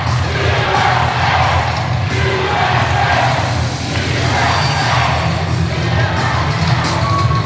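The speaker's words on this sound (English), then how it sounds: "Listen to this crowd. Going crazy." A wrestling arena crowd roars loud and continuous after a battle royal elimination, a dense wall of cheering and yelling with no clear pauses.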